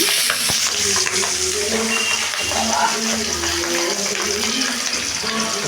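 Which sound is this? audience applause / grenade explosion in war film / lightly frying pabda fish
lightly frying pabda fish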